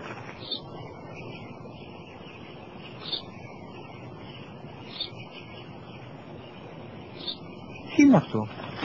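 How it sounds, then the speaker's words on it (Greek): A sparrow gives single faint chirps at regular intervals, four in all, over low background hiss, with a brief louder noise near the end. "Ένα σπουργίτη είναι, πατέρα."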